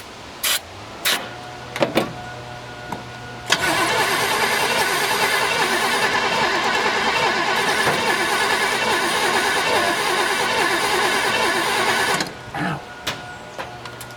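A 1972 Chevelle Malibu engine cranks over continuously for about nine seconds without catching, a loud, even churning whir of the starter framed by a few sharp clicks and clunks before and after.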